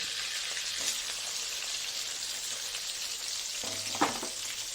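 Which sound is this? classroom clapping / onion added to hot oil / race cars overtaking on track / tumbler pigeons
onion added to hot oil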